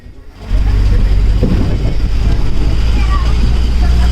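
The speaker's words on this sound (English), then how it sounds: "Just enjoy the ride, this bus ride." A tour bus rolls through Periyar Wildlife Sanctuary in Kerala, its engine a steady low drone that starts a half second in and holds loud and close throughout, with no talk over it.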